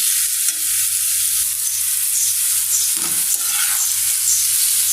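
Pumpkin bhaji frying in a pan and being stirred, a constant hissing sizzle with a few soft spoon scrapes near the middle, close and even throughout, no voices.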